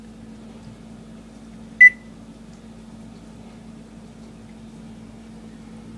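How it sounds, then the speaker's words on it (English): Oven control panel giving a single short, clear beep as it is switched on, over a low steady appliance hum in a quiet kitchen. "Turn the oven on."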